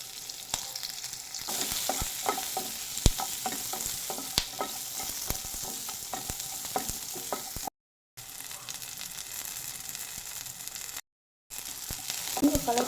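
Large chopped onion frying in oil and stirred in a pan for curry leaf chutney: a steady sizzle with repeated spoon scrapes and taps against the pan, close and moderately loud, broken by two short silent gaps, no talking.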